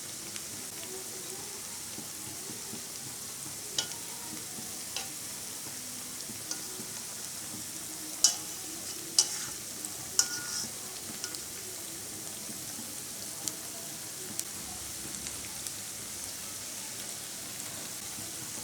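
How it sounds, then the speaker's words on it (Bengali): A soft potato and semolina snack fries in oil with a faint, steady sizzle. Scattered light clicks and taps come as it is stirred and turned. "ভাজার সময় খুব সাবধানে নাড়াচাড়া করতে হয়"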